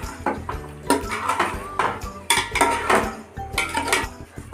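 Metal clinks and clatters from pots and utensils in a home kitchen while chicken biryani is being prepared, as a lid goes onto the cooking pot; several sharp knocks sit among continuous handling noise at moderate loudness.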